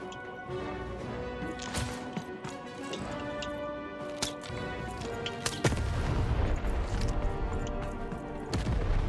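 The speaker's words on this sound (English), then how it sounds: "Shoot the button to fire the cannon!" Cannon blasts in the video game Lost in Random, heavy booming hits and crashes over game music, with a loud burst near the middle and another late, no talk over them.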